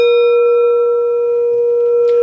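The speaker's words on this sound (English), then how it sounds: "This is a Tibetan singing bowl, technically an upright bell. It will elicit a tone if you run it around the rim" A Tibetan singing bowl, an upright bell, rubbed around the rim, producing a loud, steady sustained ringing tone with stable overtones that holds for the whole stretch without fading.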